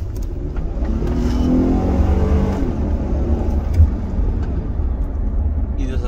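Honda Odyssey minivan engine held at a steady, loud rev as the throttle is pressed during an oxygen sensor check, a continuous droning rumble that eases slightly near the end, with a voice talking over it.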